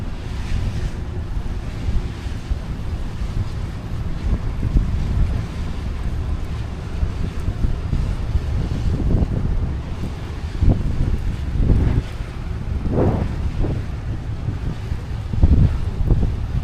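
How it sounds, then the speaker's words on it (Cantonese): Strong wind buffets the microphone on a boat in Hong Kong harbour, a steady low roar with gusty surges and water wash beneath, continuous and close throughout. "大風。"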